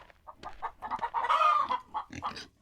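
A video game rooster in Wild West Dynasty clucks in short bursts, then gives a longer drawn-out call in the middle, followed by more quick clucks.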